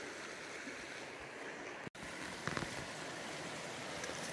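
A river flows steadily as a faint, continuous rushing wash outdoors, with a brief dropout and a few small knocks partway through.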